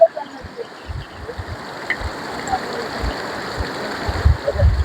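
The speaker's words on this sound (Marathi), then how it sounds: "हे असे छोटे छोटे असे वॉटरफॉल आहे तिकडे" A river in the green Konkan countryside spilling over small waterfalls, a close, continuous rushing of water with low splashing thumps, heard without anyone talking.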